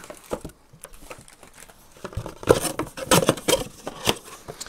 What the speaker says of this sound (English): And they come in a plastic bag.